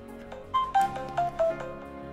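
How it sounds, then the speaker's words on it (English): A telephone rings in the background, a short melodic run of four tonal beeps, fairly faint and distant under soft room noise. "Sorry about the phone in the background there."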